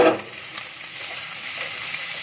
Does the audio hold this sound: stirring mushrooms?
yes